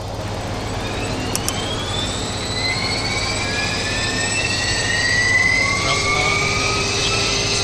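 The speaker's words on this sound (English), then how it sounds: "Starting engine number 2." Engine number 2 of a Jetstream 41 turboprop spools up in a flight simulator, its rising whine climbing steadily over a constant low hum, loud and alone.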